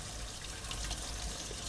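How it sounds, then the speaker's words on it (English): Water from a kitchen sink faucet runs in a steady, even stream, a close hiss with no pauses and no talking over it. "And the water pressure's good too. It's a good amount of water flow."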